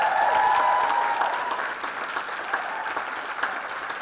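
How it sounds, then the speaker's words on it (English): Sustained audience applause for a speaker at a talk event, dense and steady clapping that stays strong for several seconds and fades only slightly toward the end, with no speech over it. "One more round of applause for Robin."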